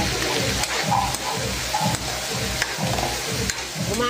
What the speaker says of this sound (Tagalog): Ayan mga guys, igisa natin maigi.